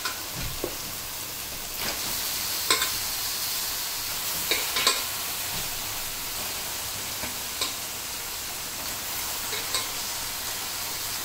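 Chicken pieces frying in masala, Bengali style, make a continuous low sizzle with occasional light clicks and scrapes from stirring, close by and without voices.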